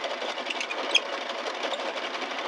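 A Prym Midi 20 pin circular knitting machine whirs steadily as it knits, a close, continuous mechanical hum with a fast rattling texture and one brief click.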